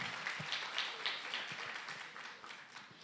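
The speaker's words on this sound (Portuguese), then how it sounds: "Pode aplaudir" Scattered audience applause at a literary festival talk, soft and fairly distant, individual claps ticking irregularly and slowly thinning out over a few seconds.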